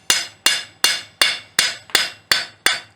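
Light hammer blows planish the back of a forged steel fishtail scroll, ringing out as nine crisp, evenly spaced metallic strikes, each with a short decaying ring, close and clear with no talk.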